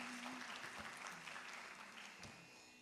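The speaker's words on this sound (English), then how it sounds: "Give another round of applause for Nandana." An audience at a Mohiniyattam dance debut applauds the dancer Nandana, a steady, full round of many hands clapping that continues unbroken and fades gently near the end, quite faint overall.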